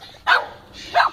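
A dog barks twice outdoors in a flooded street, two short, fairly loud barks about half a second apart against faint background noise.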